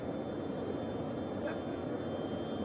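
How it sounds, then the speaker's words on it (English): A jet aircraft engine roars at Kennedy Space Center, a loud, steady, broadband rushing drone that fills the whole clip without letup. "can y'all hear me over the jet?"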